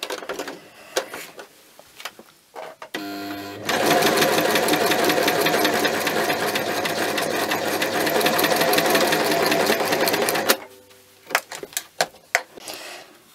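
A sewing machine fitted with a quilting foot stitches fabric in one continuous rapid whirring run of about seven seconds, framed by softer clicks and handling taps before and after.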